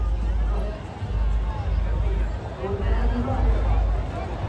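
Dense crowd hubbub at a Shiv Jayanti celebration in Nashik, a steady murmur of many voices with low rumbling and wind-like noise throughout.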